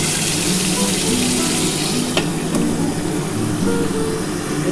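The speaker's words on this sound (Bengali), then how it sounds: "বন্ধুরা দেখো আমার কিন্তু মাছের তেলটা কিন্তু ভাজা ভাজা হচ্ছে" Fish fat frying in a covered pan for a greens dish gives a steady, dense hiss and crackle, close and continuous throughout, with no speech over it.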